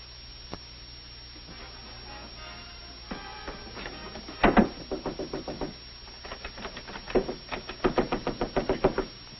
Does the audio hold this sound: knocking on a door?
yes